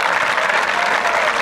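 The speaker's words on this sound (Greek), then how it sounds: "Ο κόσμος χειροκροτεί και τις δύο ομάδες." A football crowd in a Greek stadium applauds both teams, a dense, steady wash of clapping that fills the whole moment with no voices standing out.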